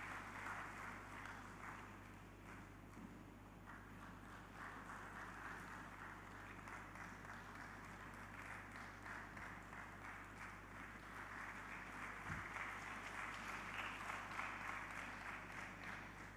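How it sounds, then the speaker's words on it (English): Audience applause in a church during a bishop's installation ceremony, a long, distant and faint patter of many hands clapping over a steady low electrical hum, continuing without pause. "Please give him a big round of applause."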